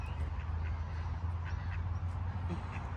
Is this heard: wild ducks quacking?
yes